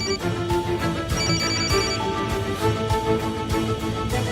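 A telephone rings repeatedly in a steady electronic pattern, loud and close, with no voices.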